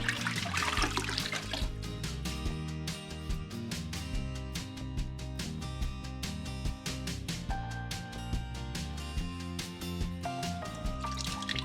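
Water runs steadily from a sink tap over plastic pieces from a Fluval 305 aquarium canister filter, a continuous loud splashing and trickling rinse with clattering handling sounds throughout.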